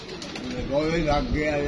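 Pigeons cooing in soft, low repeated calls at a rooftop loft where kites also circle, steady and moderately close, with a voice talking alongside.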